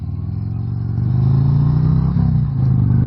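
A Harley Davidson around-town motorcycle's engine revving loud and close, a steady deep throbbing rumble that swells and holds with no speech over it.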